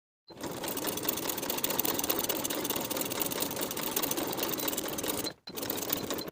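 A sewing machine stitches a seam on a weekender bag in one steady, continuous whir, stopping briefly near the end before starting again.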